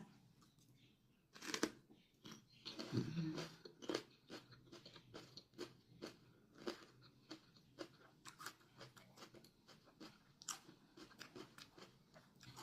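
Crunchy bites and chewing of green onion with cream cheese, close up, irregular crisp crunches with quieter mastication between them and no talking.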